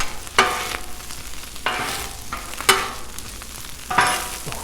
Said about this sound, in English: So let's just let all that stuff cook together for a hot second.